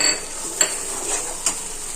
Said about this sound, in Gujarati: તો બસ હવે આપણે તેમાં થોડી કોથમીર એડ કરી દઈશું મિક્સ કરી દઈશું